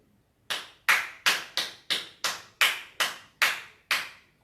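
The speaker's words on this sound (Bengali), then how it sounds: "আবারও আমি হাততালি দিচ্ছি।" Ten distinct, crisp hand claps in an evenly spaced sequence, close and clear against a quiet background with no talk.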